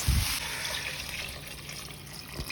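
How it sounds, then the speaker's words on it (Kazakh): Water is poured into a pot over chopped carrots and potatoes for a stew, giving a close, continuous splashing gush that starts with a brief thud and then slowly fades. "су құямыз."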